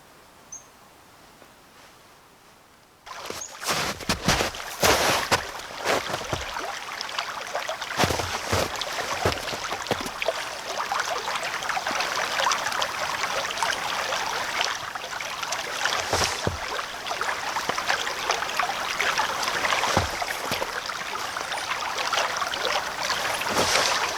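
A creek flows beside a walking path as a vintage Everdry match safe is tossed in, with faint quiet at first, then steady, fairly loud rushing and splashing water broken by a few louder splashes, and no talk.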